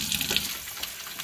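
Distilled water is sloshed and poured from lab glassware into a sink, a soft, steady splashing trickle heard up close for about a second.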